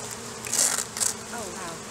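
Honey bees buzz over a beehive frame, a close, steady hum with a couple of brief louder swells as insects pass near, no talking.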